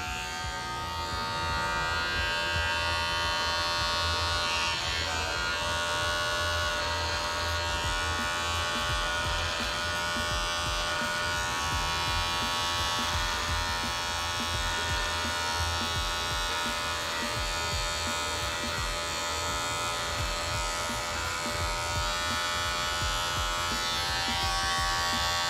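An electric clipper trims a beard into a short boxed shape, producing a continuous close buzzing drone that stays loud and even throughout, with slight shifts in tone as the blade moves through the hair and no speech.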